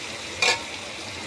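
Pickle being stir-fried with chopped dried chili in a pan, with a faint steady sizzle and one brief louder scrape of stirring near the middle.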